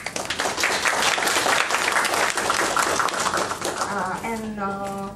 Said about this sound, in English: please give a warm applause to him again